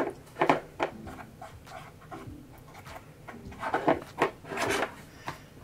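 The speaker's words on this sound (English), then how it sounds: "Just wiping off that powder." Powder is wiped off press-on nails with a cloth or brush. The close, soft rubbing swishes come in uneven bursts, with a few louder strokes near the end.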